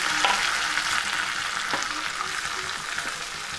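Onion, four dried red chillies and a sprig of curry leaves sauté in hot oil in a pan for aval upma, a steady close sizzle with a few soft scrapes of stirring throughout.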